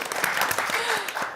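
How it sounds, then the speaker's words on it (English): Audience applause at a presidential debate in Chicago, a brief dense burst of clapping from a crowd, loud and continuous, with a voice faintly underneath. "Let's clap for her"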